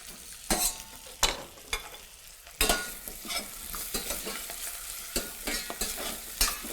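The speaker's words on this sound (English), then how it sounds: "So I just saute mirepoix with potato, just to allow them changing the color." Mirepoix and potato sautéing in a pan, a soft continuous sizzle punctuated by sharp scraping stirs at irregular intervals, close and moderately quiet.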